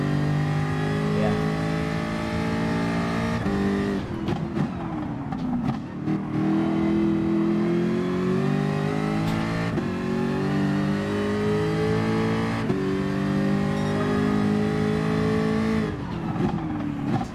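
A Jaguar F-Type engine in the GT Sport racing game, revving loud and steady with rising and falling pitch through repeated gear shifts and throttle lifts, tyres squealing faintly at times, with no voices over it.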